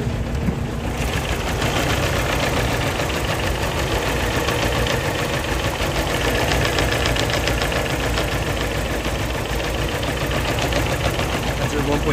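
Under the hood, a 2011 Mini Cooper's non-turbo 1.6 liter four-cylinder engine with automatic transmission idles close up, a steady, even hum and chatter that holds without change for the whole stretch.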